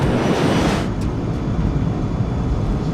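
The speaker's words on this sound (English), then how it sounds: "The DC-8 accelerates to takeoff speed." A DC-8 jet airliner accelerating down the runway for takeoff produces a loud, steady broadband roar that fills the whole clip with no talking.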